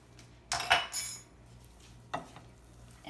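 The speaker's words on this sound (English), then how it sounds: "And I'm just gonna mix that all together." Garlic powder and cayenne being mixed into shrimp in a bowl, a few quiet scrapes and clinks of a utensil against the dish in short bursts, close and otherwise near silent.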